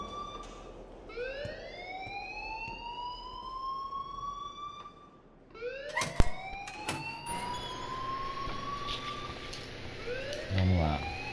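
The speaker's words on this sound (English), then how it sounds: "please turn off that alarm since that's your job" A siren-like alarm ringing inside the video game Life Is Strange, with rising electronic wails repeating over steady background noise, followed by a sharp clatter and a brief buzzy burst near the end.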